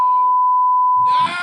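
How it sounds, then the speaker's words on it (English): A single steady censor bleep tone on a talk radio show holds for just over a second, then a voice comes in right as it cuts off. "they can hear me talk through the beep"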